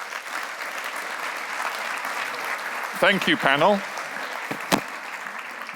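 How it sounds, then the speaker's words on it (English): At an agricultural conference, an audience's applause rolls on as a soft steady patter while a voice briefly thanks the panel midway, with a few sharper claps afterward. "please give them a very, very warm round of applause and a welcome"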